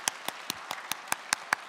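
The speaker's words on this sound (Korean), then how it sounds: "우리 함께 축복의 박수 또 하나님께 영광의 박수를 보내겠습니다" A church congregation claps in unison at a Thanksgiving Sunday service: eight crisp, evenly spaced claps in a steady quick rhythm, fairly close and clear.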